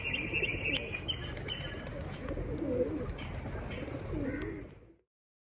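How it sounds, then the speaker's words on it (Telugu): Pigeons perched on a wire by a boat jetty ticket counter coo in soft, repeated low phrases close by, with faint chirps and a brief flutter of wings before it cuts off. "ఇక్కడ పావురాలు అవన్నీ ఎన్ని ఉన్నాయి చూడండి ఒక్కసారి."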